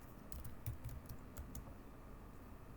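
Quick, light keystrokes on a computer keyboard as a bash command is typed, a soft irregular patter of about a dozen taps over a quiet background hum.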